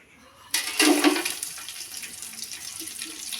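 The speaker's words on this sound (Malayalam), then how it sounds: "വെള്ളം വീത്തി നമുക്കൊന്ന് തിളയ്ക്കാം" Water gushes suddenly into a pot of whole spices for squid biryani, the splashing pour loud at first and then settling into a steady, softer flow.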